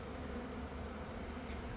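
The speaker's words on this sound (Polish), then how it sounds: "No i widać, ile pszczół tutaj się kręci." Dense, steady buzzing of many honeybees around a hive, close and continuous with no other sounds.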